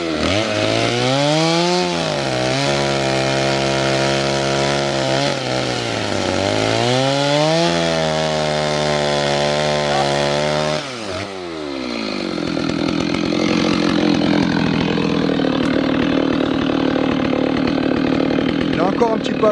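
A chainsaw cuts firewood up close, the engine screaming at high revs with pitch dipping and rising as the chain bites, then dropping to a rougher, lower running tone as the cut changes.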